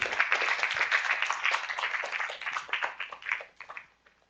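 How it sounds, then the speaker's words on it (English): Audience applause welcoming the incoming chair at a closing plenary session, a dense burst of many hands clapping at once that holds steady, then thins into scattered claps and fades out. "Yes, that's right, with our applause"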